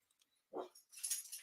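A pet dog indoors gives a short bark at noises from downstairs, one close, full bark followed by fainter rustling and higher-pitched shuffling sounds, with no talk.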